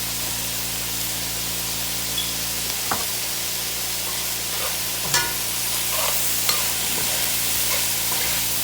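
Vegetables for a veggie bolognese sizzling quietly in a pan, a soft continuous hiss with a few scattered scrapes and clinks from stirring, close and faint, no one speaking.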